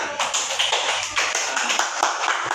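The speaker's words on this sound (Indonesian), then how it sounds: "tepuk tangan buat temannya." Students in a university microteaching class clap for a classmate, a brief burst of close, slightly uneven handclaps that fades quickly.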